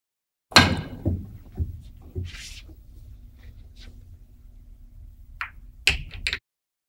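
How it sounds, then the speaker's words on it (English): Cue ball striking pool balls in the Virtual Pool game, a sharp click at the start followed by a few softer knocks as balls roll and touch, then a quiet stretch and another cluster of clicks near the end. "Shooting a cue ball into the 1 ball with the low right-hand spin"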